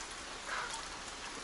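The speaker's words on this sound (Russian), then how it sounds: "Совсем чуть-чуть, уже час дождь прибывал." Light rain falls in a village, a faint, even, continuous patter with no voices.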